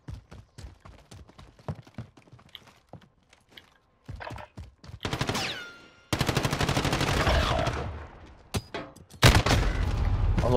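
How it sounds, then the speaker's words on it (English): Assault rifle fire in the Call of Duty Modern Warfare video game: scattered single shots and short bursts lead into loud sustained automatic volleys, some close and some more distant. "Some sort of assault rifle."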